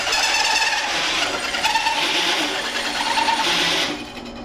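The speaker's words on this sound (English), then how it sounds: "I'm gonna drill that hole out right there" Drill boring a hole through metal on a Willys Wagon overlander build, a loud continuous high whine with a fluttering grind that holds steady, then cuts off near the end.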